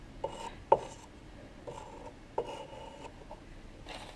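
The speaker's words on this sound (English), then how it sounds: "Once we're all stirred up, scrape off the excess glaze." A glaze-loaded brush scraped against the rim of a container of ceramic glaze, giving several short, close, quiet scraping strokes with small knocks between them.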